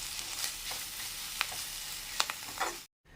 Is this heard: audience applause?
no